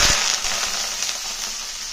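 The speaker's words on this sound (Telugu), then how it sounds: "ఈ మొత్తం వేసేసి చెట సిమ్లోనే ఉంచి లైట్ గోల్డెన్ బ్రౌన్ కలర్ వచ్చిన దాకా వేయించాలి" Onions, chilies and curry leaves drop into hot oil with a loud burst of crackling and sputtering that settles into a steady close sizzle.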